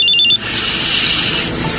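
A cellphone rings with a short, bright electronic chime, then a sustained high tone that lingers, close and fairly loud with no voices.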